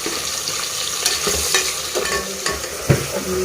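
Onions and green chillies fry in a hot pan, a steady close sizzle broken by a few sharp scrapes and clinks from a stirring spoon.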